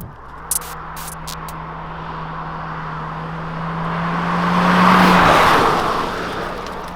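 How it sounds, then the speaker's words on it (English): A 2021 Hyundai Kona N-line subcompact SUV with all-wheel drive drives with a steady engine hum and rising tire noise that swells into a broad squeal before easing off. "it sounds and feels pretty good for a subcompact SUV"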